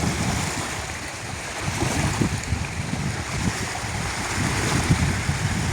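On a stormy sea near a small island, waves wash and slap around a small boat while wind roars across the microphone, a loud, continuous rushing with irregular surges.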